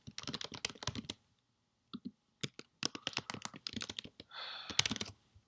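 Code being typed on a computer keyboard close by, quick bursts of crisp key clicks separated by short pauses, ending in a longer rattling run of keystrokes.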